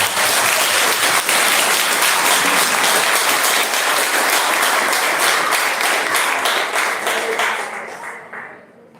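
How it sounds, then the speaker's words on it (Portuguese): Dense, sustained clapping from a crowd at a school end-of-year presentation, loud and steady for several seconds before gradually fading out at the end. "Palmas para o segundo ano."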